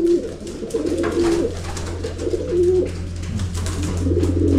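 Pigeons coo repeatedly in a loft, soft rolling calls recurring every second or so over a steady low background hum, with no talking.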